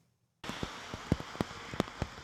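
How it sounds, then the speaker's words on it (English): Driving rain from a severe thunderstorm at Churchill Downs on Oaks Day pelts down after a brief silence, a steady hiss with several sharp, irregular drops striking a nearby surface. "Driving rain and winds over 50 miles per hour on Oaks Day."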